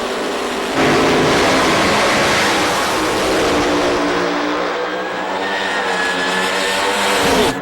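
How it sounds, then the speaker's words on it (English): Alcohol Funny Car drag racing engines rev hard on the starting line at the 2008 IHRA Rocky Mountain Nationals, a loud continuous roar that surges higher, holds at full volume and swells again near the end. "Listen to the RPMs on the starting line out of these Alcohol Funny cars."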